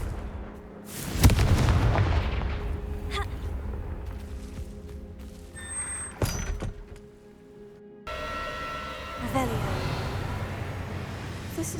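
Confringo fire spell explosions in the game Hogwarts Legacy, a loud deep blast followed by rumbling booms, fiery crackling and a sharp hit, over game ambience with a voice calling out.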